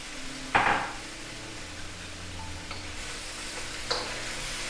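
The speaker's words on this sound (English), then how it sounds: "Ooh, hear that sizzle." A seafood stir fry with sausage, radishes, sugar snap peas and sauce sizzles in a wok with a steady close hiss, broken by two sharp utensil clanks against the pan.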